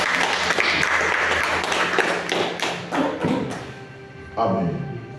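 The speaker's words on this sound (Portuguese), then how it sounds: "As palmas podem louvar ao Senhor Jesus." Congregation clapping in praise during a Sunday church service, a dense steady patter of hands filling the room for several seconds before thinning out, with voices mixed in.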